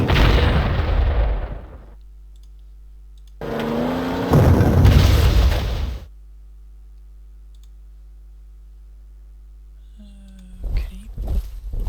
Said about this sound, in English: let's get the artillery in